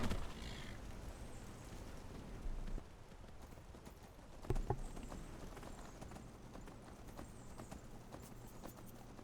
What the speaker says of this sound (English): we call for our horses, and off we go